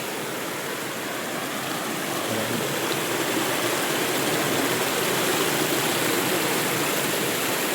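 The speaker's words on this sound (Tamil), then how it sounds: "இதுதான் எங்கள் ஊர் கூமாப்பட்டி ஆறு" Steady rushing of a village river in Tamil Nadu flowing continuously, a broad even wash of sound with no voices, fairly close and constant throughout.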